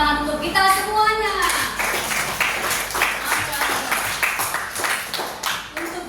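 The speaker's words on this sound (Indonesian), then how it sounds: "Beri tepuk tangan untuk kita semuanya." Students in a classroom burst into steady group clapping after a brief spoken line, the applause filling the room for several seconds with a voice mixed in.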